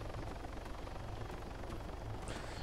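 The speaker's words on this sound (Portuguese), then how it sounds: "O helicóptero já chegando." A helicopter arrives in the ArmA 3 Altis Life video game, its rotor making a steady rhythmic low thumping beneath a constant engine drone, nearby and fairly loud throughout.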